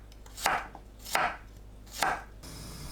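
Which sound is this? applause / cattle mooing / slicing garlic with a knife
slicing garlic with a knife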